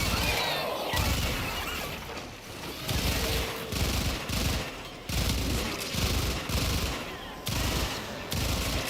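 Heavy gunfire in the video game Warframe, with sustained rapid bursts and crashing impacts that come in repeated waves, loud and close throughout with no clear talking.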